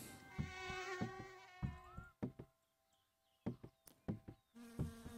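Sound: wasp buzzing, from the video game My Summer Car

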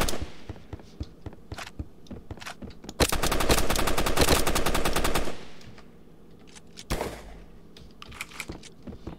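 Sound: gunfire from hit markers in video game Banana Shooter

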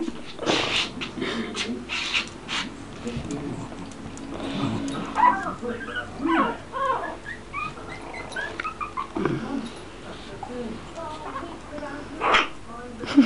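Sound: scared Brussels Griffon x Jack Russell puppy whimpering

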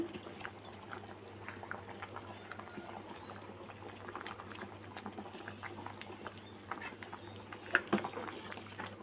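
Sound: moong dal curry boiling in pot

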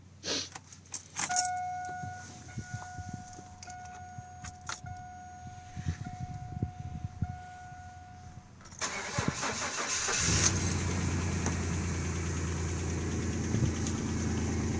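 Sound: cold start of 1999 Chevrolet S-10 Blazer 4.3 liter V6

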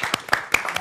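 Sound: audience applause

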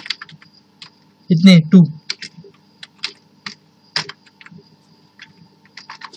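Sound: typing on a computer keyboard

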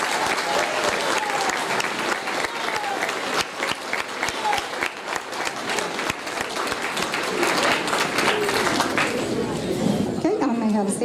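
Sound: applause for award-winning students

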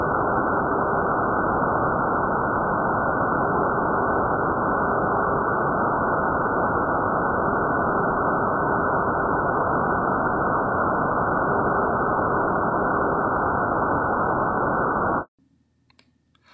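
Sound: test tone played in masking noise, BMLD demonstration

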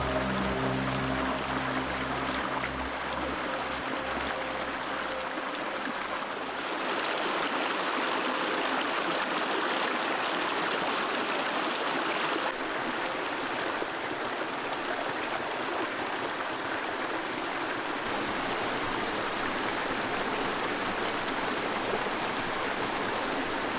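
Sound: small mountain stream flowing under wooden footbridge

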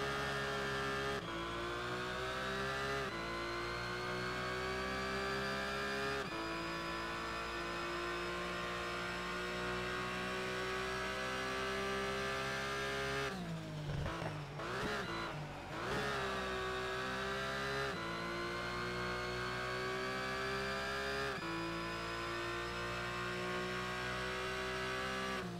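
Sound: Porsche race car engine accelerating in video game Need for Speed Shift 2

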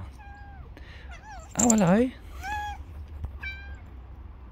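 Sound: cat meowing

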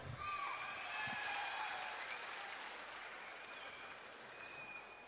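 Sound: loud audience applause at event

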